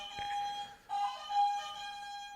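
A steady electronic buzzer tone sounds, briefly cuts out, then resumes and holds, fairly quiet and without voices.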